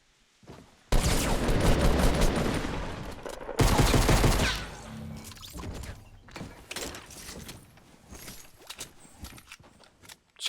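Gunfight in the battle royale game Fortnite: loud bursts of rapid gunfire in two sustained volleys, then scattered sharper shots and impacts that thin out toward the end.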